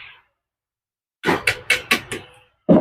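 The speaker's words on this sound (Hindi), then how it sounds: "इसको इस प्रकार से स्क्रू ड्राइवर की मदद से हल्का सा ठोकेंगे" Screwdriver tapping a jammed sewing machine gear: five sharp metallic knocks in a steady rhythm, close and fairly loud, after a silent pause, with another thud starting at the end.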